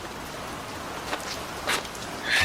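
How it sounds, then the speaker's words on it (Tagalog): Heavy rain pours down as a steady, dense hiss that fills the whole stretch, with a few louder splashes standing out from the constant downpour. "sa mga rider na susuong sa napakalakas na ulan na yan"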